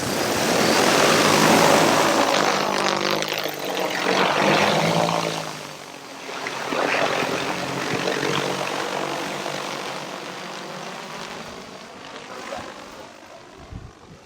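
DJI Agras T20P agricultural spray drone with its rotors spinning at around 800 RPM, a loud steady propeller whir and rushing air that swells and dips slightly, close by, with no voices.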